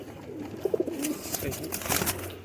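A female Teddy Sialkoti pigeon gives soft, low cooing phrases close by while someone talks over it, with faint background noise throughout.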